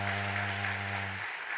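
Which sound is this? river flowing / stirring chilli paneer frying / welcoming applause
welcoming applause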